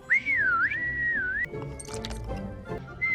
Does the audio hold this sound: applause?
no